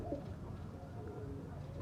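Pigeons from breeding pairs kept for sale coo steadily up close, with soft low throaty warbles repeating through the whole stretch over a constant background hum.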